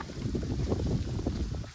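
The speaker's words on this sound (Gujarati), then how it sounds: "પવન એટલો બધો છે" Strong wind buffets the microphone in an open farm field, a continuous low rumble gusting unevenly throughout with no voices.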